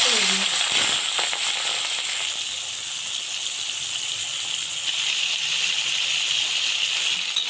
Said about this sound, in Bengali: তেলটা গরম হয়ে গেল মাছটা